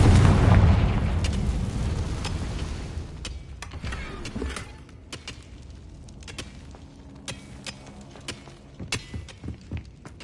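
A Confringo fire spell explodes in a Harry Potter video game: a loud, deep boom that rumbles and fades over several seconds, followed by scattered crackling debris and small pops as the blast dies down.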